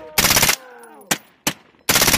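Machine gun fire during a U.S. Marine combat readiness exercise: loud, close bursts of rapid automatic shots, a long burst, two single cracks, then another sustained burst, with ringing echoes trailing between them.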